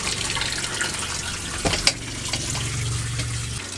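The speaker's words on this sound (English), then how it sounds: "May I turn on the bathroom faucet?" A bathroom faucet in a Coachmen RV runs during freshwater-tank sanitizing, a steady low rushing flow with a couple of brief knocks midway, then the stream settling into a fuller even pour before cutting back near the end.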